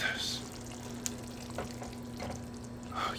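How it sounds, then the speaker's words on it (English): Canned beans with rice bubbling in a pot on a stove, a soft, steady simmer with light popping, heard faintly beneath someone talking. "Just kind of bubbling like that."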